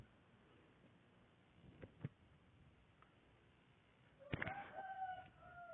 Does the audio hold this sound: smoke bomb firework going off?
no